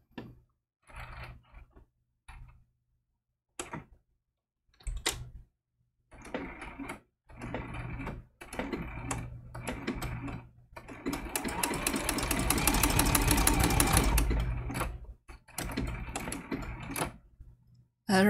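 A sewing machine stitches a raw edge appliqué halo on an angel design, running in short mechanical bursts between pauses before a long steady whirring run, loud and close with no voices.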